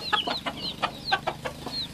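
Newly hatched chicks peep in quick, high-pitched chirps, about eight or nine short calls in a rapid, uneven rhythm, close and clear over faint background noise.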